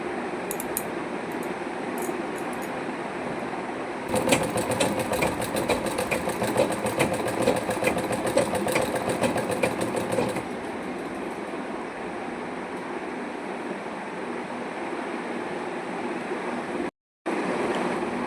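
A sewing machine stitching clothing whirs in a fast, steady run for about six seconds, loud and close, then drops back to a quieter hum of background noise.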